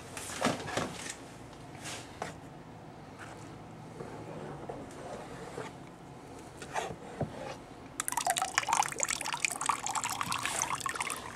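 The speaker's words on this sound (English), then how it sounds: "we'll take a very clean food strainer and just scoop it out" A clean food strainer scoops oil absorbent out of water, giving low sloshing and trickling, then a louder run of dripping and splashing as the strainer lifts out.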